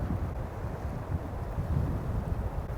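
Wind blowing beside a river during Spey casting: a steady low rumble of wind buffeting the microphone, continuous and fairly quiet, with no other distinct sounds.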